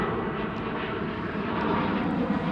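A Dornier aircraft at Amsterdam Schiphol Airport gives a steady, loud engine roar that holds evenly throughout, close by, with no voices.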